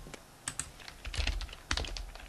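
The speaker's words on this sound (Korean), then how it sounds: "바로 옆 칸으로 이동하기 위해서는 키보드의 탭키를 누릅니다" Fingers tap out a sentence on a computer keyboard while filling table cells, giving irregular quick clicks with a heavier thump or two, close and fairly quiet with no voices.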